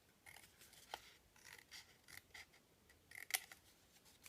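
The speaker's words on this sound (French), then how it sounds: "Donc, celui-là, je vais le couper." Scissors snip through a paper gingerbread house piece: quiet, close, repeated cutting strokes with one sharper snip near the end, and no voices.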